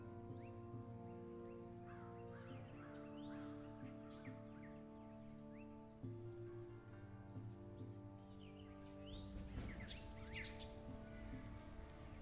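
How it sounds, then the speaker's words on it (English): Birds chirp and tweet through the ambience of the video game Forgotten Fables: Wolves on the Westwind, scattered short calls over a steady layered musical drone, fairly faint throughout. "The ambiance of the chirping and stuff."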